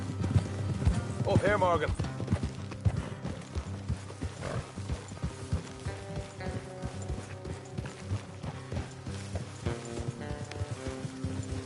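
Horses' hooves clip-clop at a walking pace on a trail in Red Dead Redemption 2, steady and close, while someone speaks over them and a horse whinnies briefly near the start.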